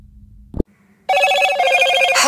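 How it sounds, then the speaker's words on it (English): Motorola Hello Moto boot sound on a Moto G4 Plus Android phone: a brief knock, a pause, then a loud, bright, sustained chime-like jingle playing alone close to the phone. "the new and nice boot animation with a pretty Hello Moto sound effect"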